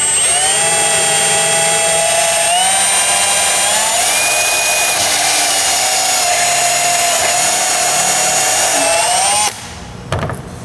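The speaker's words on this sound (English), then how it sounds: "whenever you're drilling a piece of carbon or fiberglass, use a step drill" A step drill bores a hole through carbon fiber with a loud, high, sustained whine that holds steady and shifts pitch slightly as the bit steps up in size, then stops abruptly near the end.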